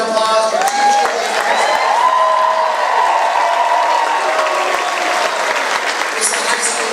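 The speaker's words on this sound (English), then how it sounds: "please give them a huge round of applause for teachers." Large high school crowd giving loud, sustained applause for teachers and staff at a presidential visit, dense clapping with cheers and whoops mixed in, some voices calling out over it.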